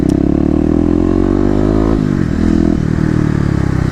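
Kawasaki KLX250 dual-sport motorcycle engine revving on and off the throttle, a loud, steady single-cylinder drone that climbs, drops sharply, then holds again, heard close with no voices.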